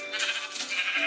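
A sheep in the video game Minecraft gives a short wavering bleat, clear and close, with no talk over it.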